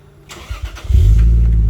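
A cold engine in a 2002 Isuzu Dragon Eye pickup, swapped with a 2.5-litre Toyota 1JZ-GTE VVTi turbo tuned for E20 fuel, cranks over in a few quick bursts, then catches and settles into a steady, loud running rumble close by.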